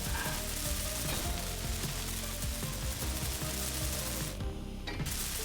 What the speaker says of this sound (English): These welded up.